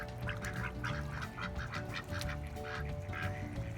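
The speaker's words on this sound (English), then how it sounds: "there's brown geese over there and white geese over here" A flock of brown and white geese honks nearby, overlapping calls repeating in a busy, steady chorus with no talk.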